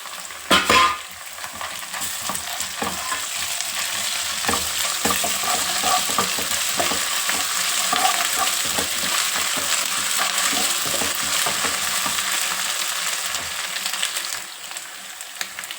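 Green chillies, crushed garlic cloves and ginger-garlic paste sizzle in a pan as tempering for a tomato-fenugreek curry, a continuous close crackling with intermittent stirring scrapes throughout.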